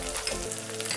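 Chili, cumin and coriander powders frying in a pan for dhaba-style egg masala, a brief close sizzling hiss with no talk.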